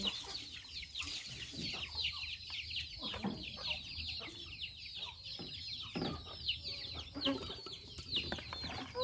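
Chickens cluck and chatter almost without pause at feeding time, several birds at once at close range, with sharp overlapping calls and shuffling noise, and no talk over them.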